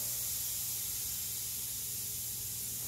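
Air hissing steadily out of an oval-track racing tire as pressure is drained, a continuous close hiss with no talk.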